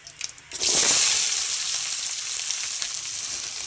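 Two chopped large onions tipped into hot oil with cumin, bursting into a loud, sudden sizzle after a few soft clinks, then settling into a steady close hiss.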